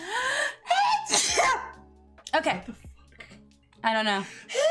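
A single sharp sneeze bursts out among casual conversation, with people talking just before and after it.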